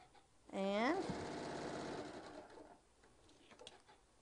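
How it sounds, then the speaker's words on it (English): A sewing machine runs a quick basting seam on bag fabric, a steady mechanical whir lasting a couple of seconds at low volume, with someone talking over it briefly. "so we're just basting this on real fast"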